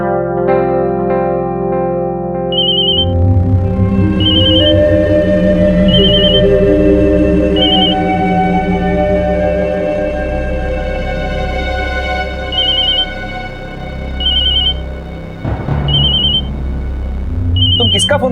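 A phone rings repeatedly, short electronic chirps recurring every second or two over dramatic, heavily processed background music in a TV crime drama scene.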